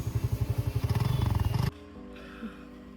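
Freshly washed motorcycle idling loud and close just after a cold start, its pulsing engine throb running steadily for under two seconds before cutting to a quiet background.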